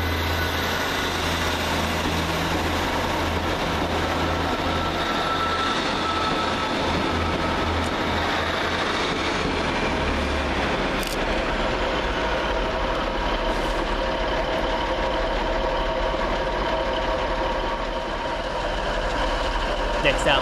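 A Northern Rail diesel passenger train idles at Manchester Oxford Road station with a steady low engine drone and hum, constant throughout with faint background activity.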